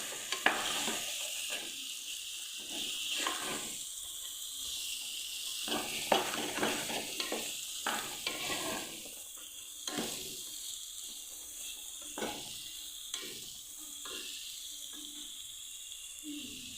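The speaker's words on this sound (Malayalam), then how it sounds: "പരിപ്പും ബീൻസും ഉരുളക്കിഴങ്ങും കൂടെ നന്നായിട്ടൊന്നിട്ട് മിക്സ് ചെയ്യാം" Lentils, beans and potatoes stirred together in a frying pan for a vegetable kurma: a continuous soft sizzle with repeated scraping and clinking spoon strokes, close by and fairly quiet, with no one talking.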